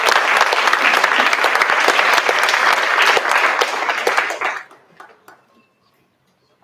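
Audience applause at a school district board meeting, a dense sustained clapping from a room of people that fades out over the last couple of seconds into near silence.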